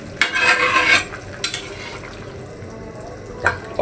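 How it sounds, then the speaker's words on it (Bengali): Eggs go into a boiling potato curry, with a spoon stirring and scraping the pan in a few bursts over a steady low bubbling simmer. "এখন আমি এর ভিতরে ডিমগুলো দিয়ে দিব।"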